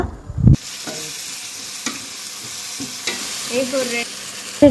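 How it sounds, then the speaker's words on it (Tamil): Tomatoes and yogurt sautéing in a pan for Jaffna-style Sri Lankan biryani, a steady close sizzle broken by several clanking stirs and scrapes of a utensil against the pan, with no speech. "நல்ல வடிவாக கட் பண்ணி தக்காளி பழமும் சேர்த்து நல்லா வதக்க போகிறோம்"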